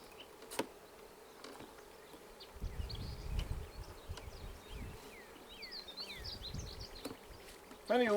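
Honeybees buzz faintly around an opened hive as frames are separated during a colony installation, a low steady drone with some handling knocks and birdsong in the background.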